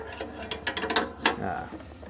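A box wrench ratchets a nut on a chute blocker being fitted to a 2017 Gravely ZT HD 52 zero-turn mower, a few close, sharp metallic clicks in quick succession.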